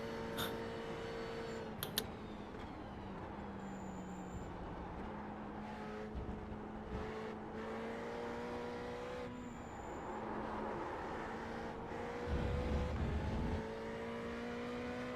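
A car engine hums steadily as the vehicle drives in practice at the Spa circuit, with rising revs as it accelerates through gears and occasional clicks and bumps.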